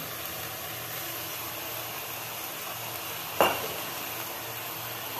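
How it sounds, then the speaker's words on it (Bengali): Potatoes fry with spices in a pan, giving a steady, even sizzle throughout with one brief clunk partway through. "আলুগুলো একটু কষে নিচ্ছি, আবার আলু একটু মশলা মেখে যাবে।"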